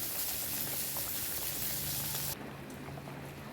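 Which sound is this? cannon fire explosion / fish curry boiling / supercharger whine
fish curry boiling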